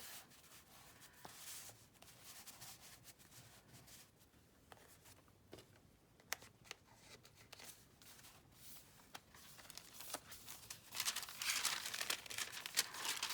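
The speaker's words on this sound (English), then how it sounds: "It just gives very cool sound, that vellum paper." Thin vellum paper crinkling and rubbing as pieces of a sunflower boho journal are handled, with soft irregular rustles that swell into louder, denser crackling near the end, no voices.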